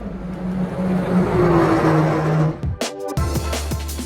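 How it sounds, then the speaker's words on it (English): A Mercedes-AMG A 45 S engine roars loudly, then cuts out abruptly and snaps back with crackling, rising revs nearby. "if, like me, you love the sound of a high performance car"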